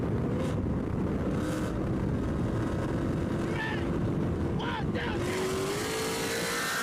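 Whipple supercharged S650 Mustang drag racing a 1,000-horsepower CTSV, engines droning loudly and steadily beneath excited spoken commentary, with a rising whine late in the run.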